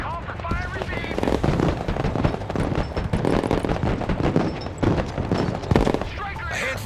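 Mortar fire and rapid gunfire in the Broken Arrow military strategy game, a loud continuous barrage of machine-gun bursts and heavy thumps, with radio-style voices talking over the battle.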